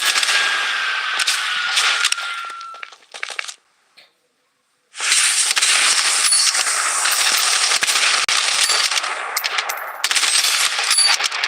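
Rapid automatic gunfire in the video game Blood Strike, with dense crackling bursts, a brief silent pause partway through, then sustained firing again.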